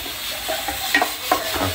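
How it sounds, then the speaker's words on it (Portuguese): Onion sautéing in a pan on a home stove, a soft steady sizzle with light stirring scrapes and a couple of brief utensil clicks, close and fairly quiet with no speech. "Só botar para refogar a cebola agora."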